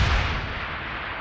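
A mine detonating in a minefield after a thrown barrel sets it off in Deus Ex: Human Revolution, a single sharp boom that decays into a short rumbling tail.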